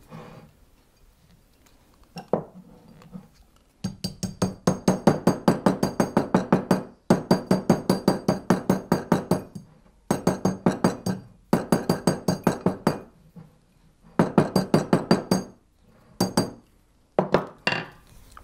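A hammer taps a silver bangle in rapid ringing metallic strikes, grouped in quick rhythmic runs separated by short pauses, close and clear with bright chiming overtones and no talk.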